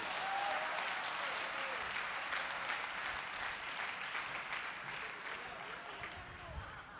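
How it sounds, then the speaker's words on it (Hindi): An audience at a comedy poetry gathering claps in a sustained wash of applause that gradually tapers, with faint murmuring voices mixed in. "हाथ उठाकर ताली जरा बजा दो तुम"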